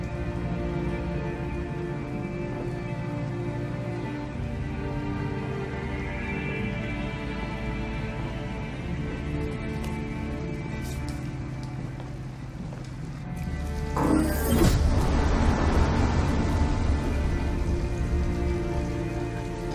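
Steady pouring rain in the video game Detroit Become Human, a continuous dense patter under a low musical drone, swelling louder and heavier near the end.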